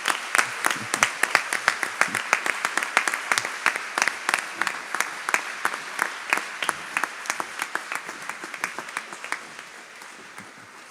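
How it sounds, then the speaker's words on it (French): Sparse applause from a small audience for the Radio Maria France team: distinct individual claps in an uneven rhythm, fairly close, slowly thinning and fading toward the end. "On peut les applaudir."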